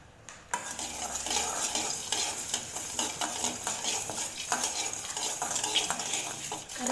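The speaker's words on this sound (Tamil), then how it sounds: "லோ ஃப்ளேம்லேயே வறுத்துக்கலாம். குருமிளகும் சோம்பு சேர்த்துட்டு பார்த்திங்கன்னா வறுத்துட்டோம்." Black pepper, fennel seeds and curry leaves dry roasting in a pan over a low flame, with a steady crackle and scrape of stirring close by, continuous throughout.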